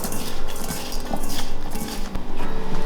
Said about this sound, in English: And mix them all together.